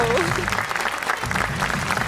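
Studio audience applause on a Tamil television game show, a steady dense patter of many hands clapping throughout, with a host's voice speaking over it.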